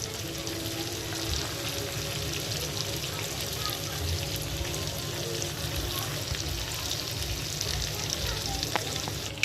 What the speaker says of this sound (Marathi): हे बघा मी तव्यावरती चिकन टाकून दिलेलं आहे।